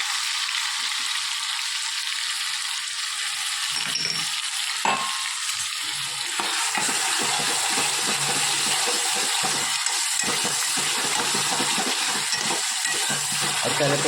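Onion, tomato, garlic and chili fry in four spoons of hot oil, giving a loud, steady sizzle that hisses close by for the whole stretch, with faint stirring scrapes now and then.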